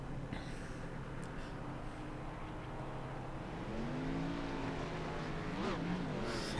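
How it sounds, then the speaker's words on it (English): Race cars pulling into their pit stalls in a stock car racing video game, several engines droning and revving together, with one car's engine pitch sweeping up and down near the end as a car passes close. "5 car pulls into his pit stall along with everyone"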